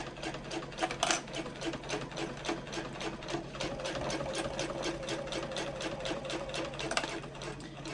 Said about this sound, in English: we're going to sew all the way down with our needle ending right where those 2 lines intersect